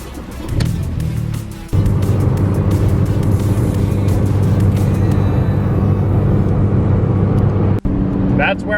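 A used MK4 Volkswagen Jetta cruises along the road, heard as a constant loud cabin drone of engine and tyre noise, with talk over it and a couple of brief dips.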